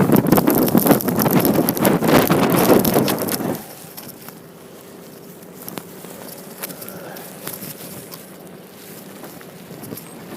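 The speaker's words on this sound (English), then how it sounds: "I'll try to turn the phone around and face into the wind for a second" Strong nor'easter wind buffeting the microphone on a sandy beach with driving sand, loud roaring gusts for several seconds that then drop to a quieter rushing background.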